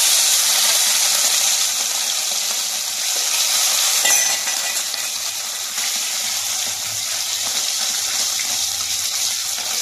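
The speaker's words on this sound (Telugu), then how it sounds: "ఆయిల్ వేడయిందండి, దీనిలో మనం ఇప్పుడు రొయ్య పప్పు వేసేసుకుందాం." Dried prawns sizzle in hot oil in a wok, a steady bright frying hiss that holds throughout with a brief louder burst midway and no voices.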